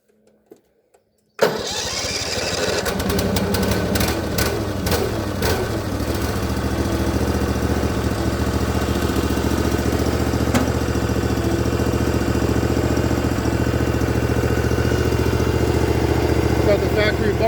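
A Case Ingersoll 4018 garden tractor engine, a low-hour machine with a factory bumper, starts up after a moment of near silence and then runs at a loud, steady idle close by for the rest of the stretch.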